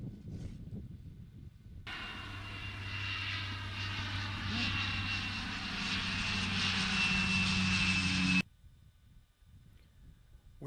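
Aircraft engine droning steadily as a plane departs a tundra landing site, a loud sustained roar lasting several seconds between quieter outdoor stretches.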